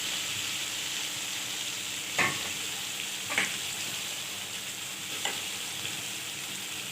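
Steady sizzle of green chillies frying in a Peshawari charsi karahi, with a few sharp spatters and stirring clinks over the continuous hiss, close by and with no talking.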